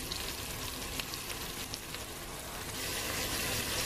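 Onion and garlic fry in a pan with a dense, even hiss of sizzling oil, steady and close, rising slightly toward the end.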